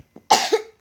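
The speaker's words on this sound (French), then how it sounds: "Désolé, il y a mon frère qui tousse." A single harsh cough from a boy nearby, one sharp burst with a short throaty tail, heard alone in an otherwise quiet room.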